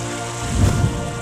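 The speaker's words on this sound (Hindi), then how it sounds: "बारिश ने रुलाया।" Rain from an April thunderstorm in India falls in a dense, steady patter while a deep rumble of thunder swells briefly in the middle of this short moment.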